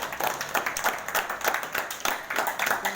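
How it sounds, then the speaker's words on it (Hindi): People at a meeting of retired soldiers clap together, a fairly quiet, uneven patter of hands in short rhythmic bursts with no talk. "उनके हौसला अफजाई के लिए एक बार हम तालियां बजाएं"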